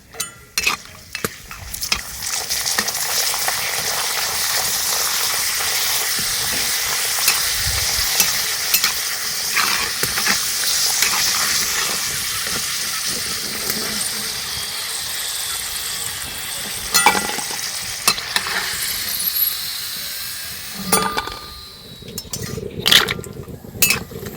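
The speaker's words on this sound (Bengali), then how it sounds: "এবার পাঁপড়গুলো দিয়ে দেব তেলটা গরম হয়ে গেছে" Papad frying in hot oil in a wok, a loud, continuous bubbling sizzle close by, broken by scraping stirs and occasional clinks of a utensil against the pan, with surges as fresh pieces drop in.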